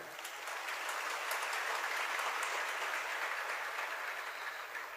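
Steady audience applause during a religious sermon, soft and distant, sustained evenly throughout without speech.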